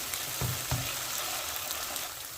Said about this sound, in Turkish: Soğanımızı çok iyi bir şekilde kavurdum.